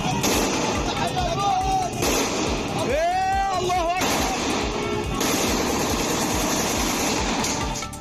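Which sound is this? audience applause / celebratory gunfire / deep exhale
celebratory gunfire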